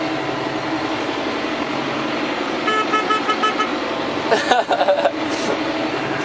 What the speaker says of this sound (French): Petit coup de klaxon